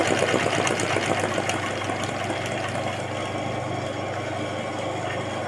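An embroidery sewing machine rapidly stitches a rough pass along a neck border, giving a steady, fast mechanical chatter with a low hum underneath.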